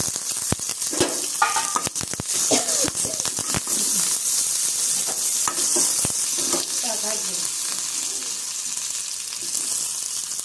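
Mustard seeds, cumin and curry leaves sizzle and crackle in hot oil in a pan as tempering for coconut chutney, with a steady hiss broken by sharp pops and occasional stirring clinks, heard close up with no talk.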